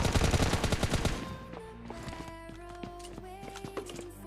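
Video game gunfire knocking down a bot: a rapid burst of loud, close shots for about a second, then the firing stops and quieter game sounds and tones carry on.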